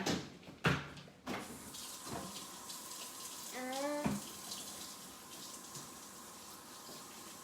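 A kitchen tap runs steadily while a spatula is rinsed beneath it, with a few knocks and clatters near the start and a brief squeaky rubbing sound midway, heard close and mostly alone.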